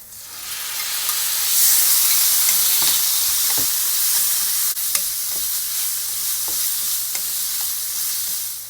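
Pork sizzles in a pan with shallots already fried in oil, a steady hiss broken by occasional clinks and scrapes as it is stirred. There is no speech.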